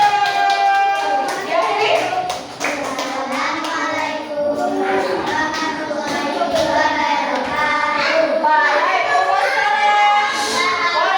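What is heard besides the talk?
children clapping, applause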